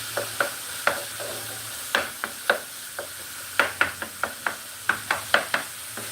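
Ground pork and beef frying in a pot for chili, with a steady low sizzle and a run of sharp knocks and scrapes as a utensil crushes and stirs the meat, loud and close.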